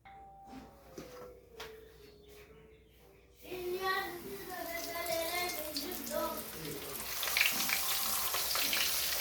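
Fish for sauce soutrou dropped into hot oil, bursting into a loud, dense sizzle that keeps frying steadily after a quieter start with a few clinks.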